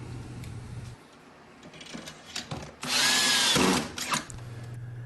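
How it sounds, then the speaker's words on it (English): A power drill drives screws down through composite deck boards into the joists beneath, with one loud, sustained whirring burst in the middle. Softer mechanical handling noises come before and after it, along with a steady low hum. "You should go ahead and put screws in all of the joists on this side of the board."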